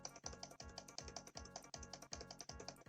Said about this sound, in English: I don't know if you can hear me mashing my keyboard